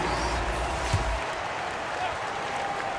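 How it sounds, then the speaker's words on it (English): Crowd applause fills a basketball arena during an NBA game, a dense, steady roar of clapping and cheering that runs through the whole moment at fairly high volume. "Let's have another big round of applause for your Magic Youth Dance team."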